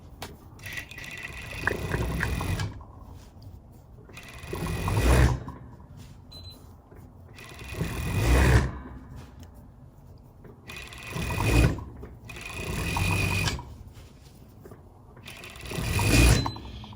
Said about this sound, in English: So this is a Juki serging machine, which is pretty good, more like industrial.